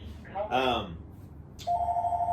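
A phone rings near the end with a steady electronic tone, following a brief burst of voice and a short rustle; the ring is moderately loud and close, heard during a podcast conversation.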